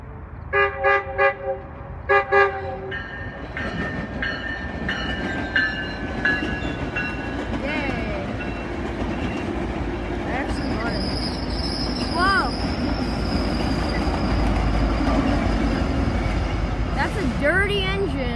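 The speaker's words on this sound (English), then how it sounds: "Nice twilight trains in Riverside." A train horn blasts several loud repeated toots, then a train rumbles past steadily at twilight in Riverside with squealing wheels and a rising roar of cars rolling by.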